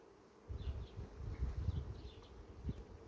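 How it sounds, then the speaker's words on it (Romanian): Soft buzzing of honey bees close by at a hive frame, a low droning hum that swells and fades in uneven pulses against a quiet background. "Aceasta albina nu prea mai stă"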